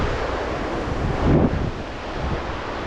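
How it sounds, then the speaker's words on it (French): Strong wind on a hike near Fitz Roy buffets the microphone in a steady, heavy rush, swelling briefly in a louder gust. "Oh là là, le vent qu'il y a"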